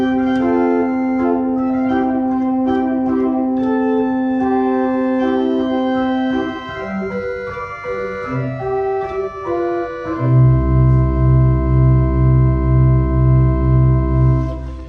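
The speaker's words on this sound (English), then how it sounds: "the first stop on the grate is an 8-foot open diapason" An 8-foot open diapason stop on the Aysgarth pipe organ plays alone in a cold church, sustained chords moving steadily at first, then a lower held note with a repeating pulsing bass figure beneath, full and continuous throughout.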